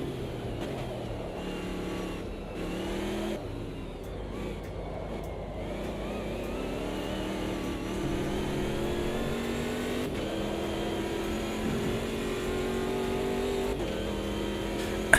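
Wankel rotary race car in the Automobilista 2 racing game, its engine revving steadily and loudly with rising and falling pitch, a sustained continuous drone without any talk.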